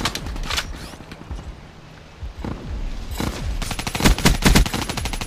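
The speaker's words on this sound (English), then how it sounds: "Keep shooting." Sustained bursts of rapid automatic gunfire in a video game shootout, loud and dense, with rattling volleys building heavier toward the end and no talk over it.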